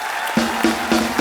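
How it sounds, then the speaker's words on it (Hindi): A studio audience on The Kapil Sharma Show applauding, a short, loud burst of clapping with rhythmic accents from a studio band underneath. "जोरदार तालियां हो जाए एक बार"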